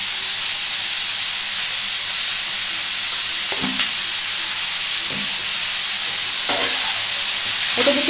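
Paneer salsa mixture with a pinch of sugar fries in a pan, giving a steady close hiss and sizzle broken by a few scraping stirs.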